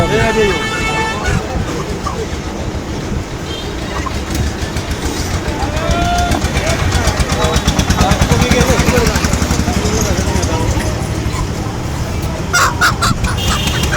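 Village ducks and chickens cluck and squawk continuously amid a busy rural morning market din in Bangladesh, with people talking and a vehicle horn honking.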